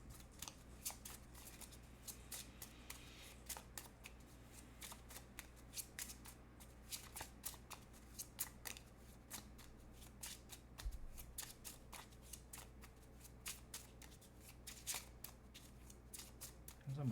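Tarot cards are shuffled steadily and continuously for a long stretch, a close, dense stream of soft riffling slaps and flicks with a faint low hum underneath.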